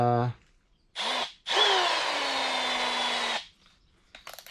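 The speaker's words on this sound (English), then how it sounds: "So I'm going to work on getting the rest of this right here drilled off." A power drill bites into rivets on a core support during an install, with two close, loud bursts: a brief spin-up, then a longer steady whine that winds down.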